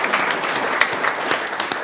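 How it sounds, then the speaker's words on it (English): A school board meeting audience claps for an absent senior academic all-state tennis recipient, a dense, steady patter of many hands filling the room at moderate loudness. "not here tonight, but we'll clap for him."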